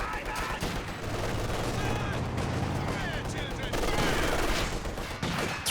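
Light machine gun fire in a multiplayer war game match, with sustained rattling bursts and scattered distant shots spread across the moment under a steady battle din, and commentators speaking over it.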